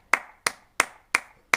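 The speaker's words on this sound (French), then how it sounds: "Allez, on applaudit." Slow, evenly spaced hand claps in tribute to health workers during lockdown, five sharp strikes in a steady rhythm, fairly close and each ringing out briefly before the next.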